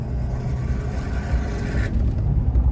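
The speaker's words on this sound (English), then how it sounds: "Oh, these Duramaxes sound awesome." A Duramax diesel pickup engine with a turbo, intake and exhaust upgrade rumbles steadily up close at idle, giving a deep, continuous low drone with no talking over it.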